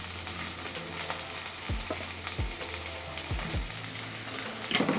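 Onions fry in a pan for a homemade tomato sauce, a soft, steady sizzle heard alone. A few dull low knocks from the pan or utensil sound partway through.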